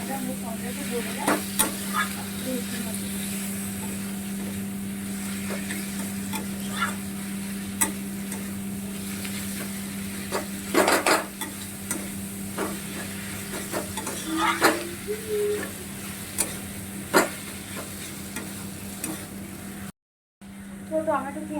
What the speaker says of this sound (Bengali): তো টমেটো পেঁয়াজটা ভাজা হয়ে গেছে